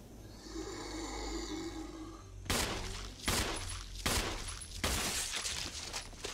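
Gunfire from the Resident Evil remake played on PC, four loud broadband blasts spaced roughly evenly after a quieter stretch of low ambient game sound.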